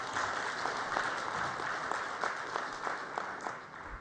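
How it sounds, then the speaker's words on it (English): Audience applause at an Indian Society of Critical Care Medicine event for World ARDS Day: moderate, steady clapping from a crowd, fairly distant and continuous throughout. "I request you all, please, applause for the Indian Critical."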